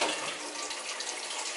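A kitchen tap runs water into a cooking pot, a steady, close rushing splash that lasts the whole moment.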